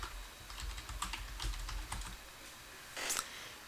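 Rapid, fairly quiet typing on a computer keyboard, a steady patter of key clicks with a slightly louder burst near the end, no voices.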